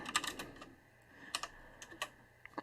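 Keys are tapped on a computer keyboard in quick, uneven clusters of crisp clicks with short pauses between them, soft and close in a quiet room.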